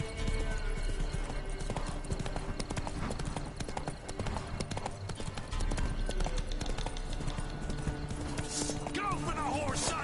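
Steady clip-clop of horse hooves over busy game-like background noise in a PS4 video game, with a whinny near the end and voices talking underneath.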